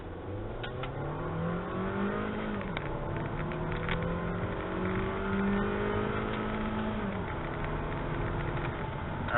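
Volkswagen 1.4 TSI turbo engine running on 87 octane pulling hard from 0 to 60 mph, rising revs through several gear changes, heard steadily from inside the car.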